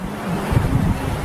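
Surf washes steadily along a long resort beach at Varadero, Cuba, with wind buffeting the microphone; a continuous low rumble of waves and gusts, no voices.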